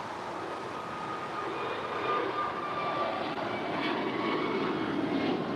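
An American Airlines Airbus A321 departing LAX, its jet engines giving a steady, broad roar at moderate distance that holds evenly throughout with no voices.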